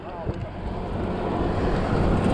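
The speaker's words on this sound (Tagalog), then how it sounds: "Malakas ang hangin." Strong wind buffets the microphone while riding on a cycling tour in Dingalan, Aurora, a constant close roar of broadband rushing that grows slightly louder over the short stretch.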